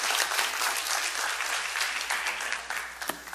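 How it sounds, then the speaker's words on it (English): An audience gives a volunteer a round of applause, a dense, steady wash of clapping from many hands that carries on throughout, with a few sharper claps near the end. "Round of applause for our volunteer"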